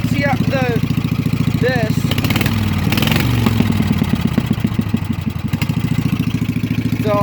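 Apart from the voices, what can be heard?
mud mower engine running with open headers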